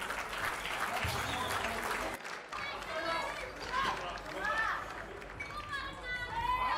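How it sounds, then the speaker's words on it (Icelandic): An audience at a junior powerlifting championship claps steadily and warmly after a lifter's attempt, the applause continuous throughout with voices talking over it. "gefum honum gott klapp"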